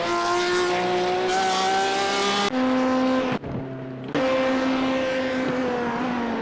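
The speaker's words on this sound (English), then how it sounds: "And the extremely loud Porsche." A very loud Porsche race car engine in an iRacing LMP2 sprint race at Monza screams at high revs, with a gear shift and a brief drop in pitch partway through, then climbs steadily again. No one speaks.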